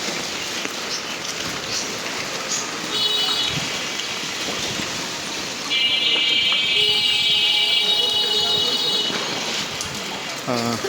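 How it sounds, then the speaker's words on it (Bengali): Heavy morning rain falls in a steady, loud hiss that fills the scene, with thin tonal whines in the background, probably from passing traffic or machinery. "বৃষ্টির যে পরিস্থিতি বৃষ্টি কিন্তু খুব সহজেই থামবে বলে মনে হচ্ছে না"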